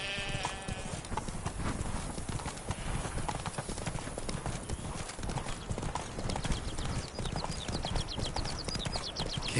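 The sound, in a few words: Geralt's horse Roach galloping in the video game Witcher 3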